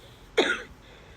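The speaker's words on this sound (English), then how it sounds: "The coughing was real" A single short cough, close and fairly loud, bursts out once and fades quickly into quiet room noise.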